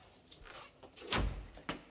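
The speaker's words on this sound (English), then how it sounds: "Shut the door." An office door in a scene from the British comedy Dad's Army is shut with a single firm thud, preceded by faint shuffling and followed by a smaller knock, all fairly quiet.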